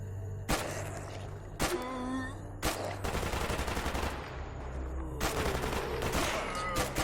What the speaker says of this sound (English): he's shooting at some zombies